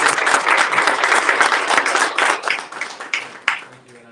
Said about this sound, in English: If I could invite the audience to a round of applause.